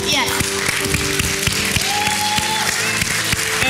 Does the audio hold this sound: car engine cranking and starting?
no